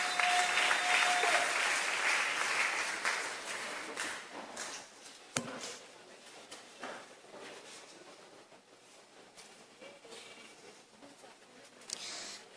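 A church congregation applauding at a sermon, dense clapping loud at first, then thinning out and fading to scattered claps and a few sharp knocks.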